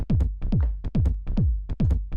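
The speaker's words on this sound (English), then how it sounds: "now you have the sequencer and the tom, and combined it sounds like this" Sequenced 909 drum-machine toms in a hypnotic techno pattern, loud punchy hits with falling pitch repeating in a quick syncopated rhythm, dry and unprocessed, no voices.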